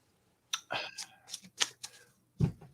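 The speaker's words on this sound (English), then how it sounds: "I just dropped cards. I was shuffling and I dropped cards." Tarot cards being shuffled and then dropped: a quick run of crisp papery flicks and slaps, ending in a duller soft thud as the deck lands, close and fairly quiet with no talking.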